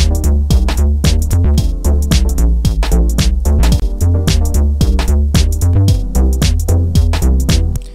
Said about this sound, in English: Let's go ahead and listen to the difference that this little switch makes.